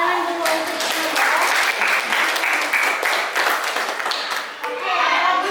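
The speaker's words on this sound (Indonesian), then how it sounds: "Tepuk tangan dulu untuk Ibu ya." A classroom of children claps for their teacher, a loud, dense burst of clapping that runs steadily for several seconds and fades slightly near the end.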